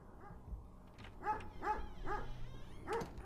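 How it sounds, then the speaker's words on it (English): Dogs bark in a video game, a few short yips and barks spaced irregularly over a few seconds at moderate distance, fairly soft against a low background rumble. "disturbing all the dogs on the way"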